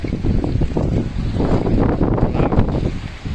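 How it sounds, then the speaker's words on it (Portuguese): Strong wind blows at Praia de Iracema beach, a constant loud rushing buffet across the microphone with no pauses, no voices over it. "Cara, tá um vento medonho aqui"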